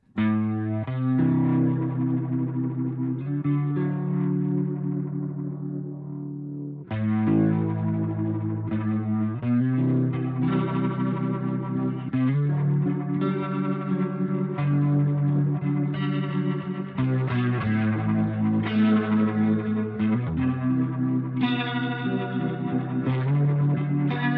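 A Boss RT-2 Rotary Ensemble pedal in mode 1 at maximum gain colours an electric guitar, chords and riffs swirling with a thick, driven rotary warble, loud and unbroken apart from one brief pause.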